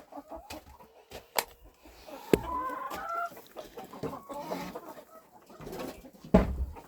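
Bantam hens clucking in a farmyard, a run of soft, uneven clucks and low calls close by, with a few sharp knocks and rustles.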